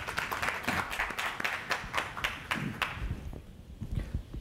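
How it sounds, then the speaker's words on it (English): Audience applause after a finalist is introduced at a university presidential search Q&A, a run of distinct claps that thins and fades over a few seconds with no voices over it. "So with that, I would like to give a round of applause to our first finalist, Dr. Kevin Carman."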